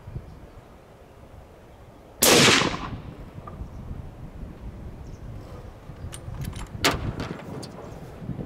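A single loud, sharp crack from a 7mm Rem Mag rifle firing CNC-machined solid match prototype bullets from a car bonnet outdoors, followed by windy rumble and a few small clicks.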